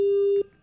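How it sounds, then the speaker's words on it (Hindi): Phone busy tone after a call is hung up during a Hindi radio prank call: a single steady electronic beep that holds for under half a second, then cuts off into faint line noise. "जी भाविका आपने फोन रख दिया था।"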